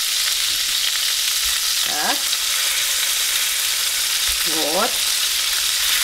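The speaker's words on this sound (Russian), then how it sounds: "Вообще рыба быстро жарится." Fish and onions fry in a pan with a constant bright sizzle and crackle, broken by a couple of brief scraping stir sounds, while someone says a few short words in Russian.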